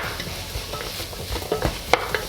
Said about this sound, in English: as soon as that garlic hit that hot pan